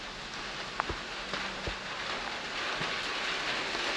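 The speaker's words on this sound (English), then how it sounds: "And of course it's raining." Steady rain falls on an outdoor spot along the Darling River Run in Australia, a continuous broadband hiss with a few scattered louder drops and knocks, no voices present.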